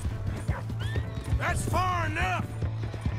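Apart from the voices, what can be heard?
horse neighing and galloping, video game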